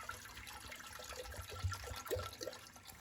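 Water poured from a glass into a pressure cooker set on a lit gas stove while dal is being cooked. It makes a soft, uneven gurgling trickle with small splashes, fairly quiet and steady, and no one speaks.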